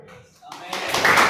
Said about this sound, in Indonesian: tepuklah tangan sekarang karena Tuhan Yesus baik